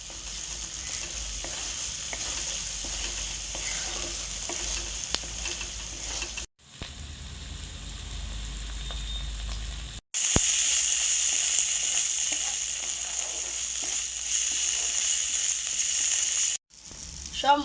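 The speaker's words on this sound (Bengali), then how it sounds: "এখন আমি সব কিছু একসাথে ভালো করে নেড়ে চেড়ে কষে নেব।" Spices such as chilli, coriander, cumin, salt and turmeric sizzle loudly in hot oil while being stirred and fried, a steady close crackle with brief pauses and scraping stirs throughout, no talking.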